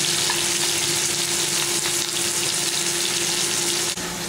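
Chicken drumsticks frying in oil in a pan over low to medium flame, a steady, dense sizzle that carries on without a break, close and fairly loud, with no talking.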